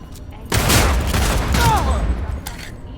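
Rapid gunfire bursts from a Cyberpunk 2077 firefight, loud and sustained after a short lull, with a voice and other game sounds mixed in.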